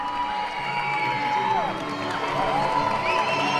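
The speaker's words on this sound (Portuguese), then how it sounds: "sendo aclamada e aplaudida pelo público" An indoor audience cheers, whoops and applauds a gymnast at a trampoline team announcement, a sustained crowd roar with shouting voices heard from a distance.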